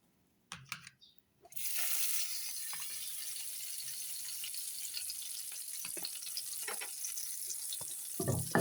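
Butter and French toast frying in a hot pan, a steady broadband sizzle that starts after a couple of faint clicks and holds loud and close throughout, with small scrapes and taps near the end.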